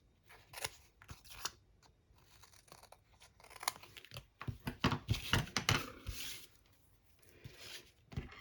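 Scissors snip and trim paper, a run of crisp close cuts, sparse at first and then quicker and denser before tailing off, with no voices.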